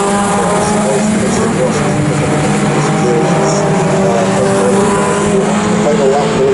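Mini Cooper race cars circulating at the Knockhill circuit, a loud sustained engine drone with shifting harmonic whine as cars pass, continuous throughout, with commentary speech over it.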